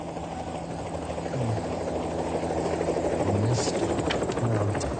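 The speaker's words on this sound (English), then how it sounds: "Just found the helicopter." A helicopter drones steadily overhead in Pembrokeshire, its rotor chop and engine hum filling the scene at a constant, moderately loud level.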